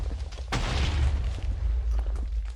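A cannon blast in a Minecraft Race for Wool match: one sharp, loud boom at the start, with a rumbling, crackling tail that fades under steady low background noise.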